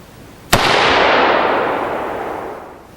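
A single loud AR-15 rifle gunshot fired through a Core 15 muzzle brake at an outdoor range: one sharp crack followed by a long, slowly fading roar of echo, with no voices.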